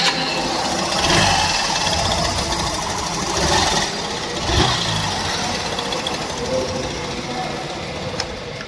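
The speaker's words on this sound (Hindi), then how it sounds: "आपको हम साउंड सुनाते हैं कि इस बाइक का साउंड कैसा है।" Hero BS6 Super Splendor motorcycle engine with a sound problem running steadily close by, a continuous busy mechanical rattle and whir throughout.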